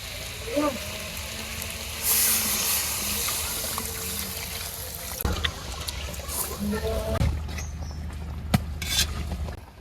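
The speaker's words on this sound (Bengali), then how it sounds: "গোস্ত ভুনো হয়ে গেছে, একটু জল দিয়ে দেই।" Water is poured into chicken browning in a pan, making a close trickling, splashing rush over a hissing sizzle, followed by softer bubbling and a few small clicks.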